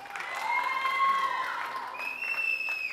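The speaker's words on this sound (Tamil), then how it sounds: "அதை சொன்ன கைத்தட்டுவீங்க தெரியும்" An audience claps at the audio launch event for the film Murungakkai Chips, a continuous spatter of clapping under and around sustained tonal sounds, moderately distant.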